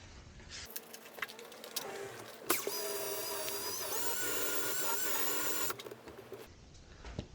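A power sander lightly sands timber during a restoration, a close high-pitched whine with a buzzing edge that starts abruptly, runs steadily for a few seconds, then cuts off amid quieter handling noise.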